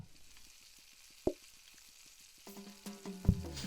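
Food sizzles on a cooking station in the kitchen game PlateUp!, a steady low frying hiss with a sharp plop partway through and busier clatter and tones near the end.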